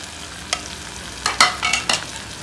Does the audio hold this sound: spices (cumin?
yes